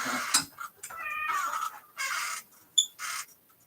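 A house cat meows indoors, with several short, close calls spread across a few seconds amid light household clatter.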